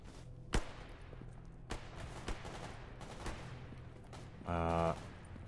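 Distant firefight in S.T.A.L.K.E.R. GAMMA, scattered sharp gunshots cracking at irregular intervals over low ambient noise, followed by a brief louder burst of rapid automatic fire near the end.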